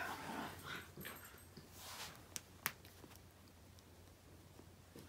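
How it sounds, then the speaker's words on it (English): Faint dogs whimper and yip in the distance, with a couple of sharp brief sounds over a quiet outdoor background. "My dogs, I don't know if you can hear them in the background"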